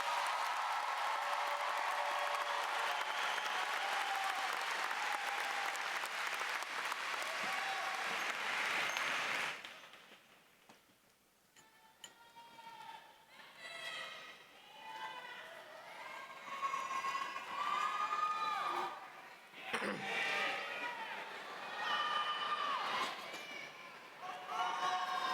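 Applause and cheering ring out from a high school graduation crowd honoring scholars, a dense loud wash of clapping for about ten seconds before it fades and a speaker begins talking.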